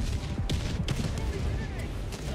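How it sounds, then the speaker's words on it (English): Rapid autocannon fire in a video game, a dense, continuous stream of loud shots layered with game effects and voices chattering over it. "Ma, ta auto cannon je najjači, majke mi."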